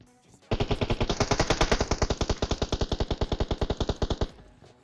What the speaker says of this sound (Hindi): और इधर गोलियां भी चल रही है